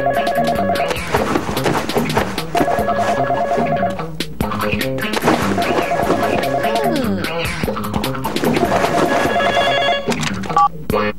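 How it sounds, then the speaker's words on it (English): A cordless home phone rings in repeated electronic bursts amid busy, loud, music-like tones, with short breaks between rings and no voices. "And it's our cordless phone."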